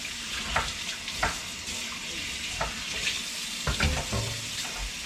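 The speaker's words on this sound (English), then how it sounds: "I'm gonna mix this in just to get some pork fat in the sauce." Elk meat cooking with mixed-in pork fat for a spaghetti sauce, giving a steady sizzle with clear irregular clinks and stirring scrapes scattered through, close and fairly loud.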